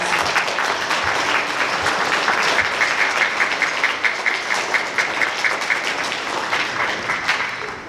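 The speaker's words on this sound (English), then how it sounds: "students, please give your family members a round of applause" An audience at an elementary school holiday concert claps for the students' families, steady dense applause that holds loud and gradually thins toward the end.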